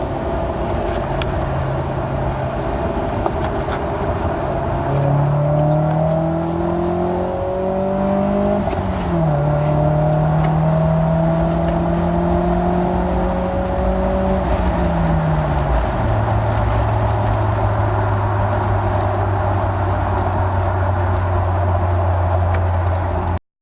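Freshly rebuilt 2003 Suzuki RM85 two-stroke dirt bike running on a known-good carburetor, its engine buzzing steadily then revving up and down in shifting tones before settling to a lower drone, loud and continuous throughout.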